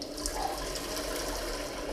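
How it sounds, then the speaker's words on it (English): Cold tap water pours steadily into a large container for home-made ginger beer, a continuous rushing fill heard close up with no talking. "So I'll top that up now with cold water."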